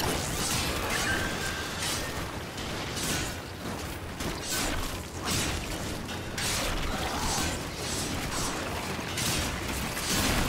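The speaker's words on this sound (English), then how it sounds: "Excavator is ready to go. Keep it powered and protect it from enemy fire." Excavator machine in Warframe, drilling at a dig site: a dense, continuous churn of grinding, clanking mechanical noise with ratcheting clatter and occasional whooshes that hold at a steady, loud level throughout.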